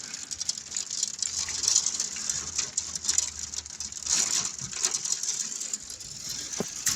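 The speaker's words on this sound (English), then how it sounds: "Oh, is the hail hitting against the top up there?" Hail patters steadily against windows and a roof during a storm, a dense, continuous rattling hiss close by with scattered sharper ticks.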